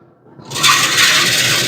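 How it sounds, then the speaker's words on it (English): Hot water pours loudly into the water pan of a smoker while a beef eye of round roast is cooking, starting after a brief quiet moment and continuing as a steady, close rushing splash. "put some hot water in the water pan here to have some moisture in the smoke chamber"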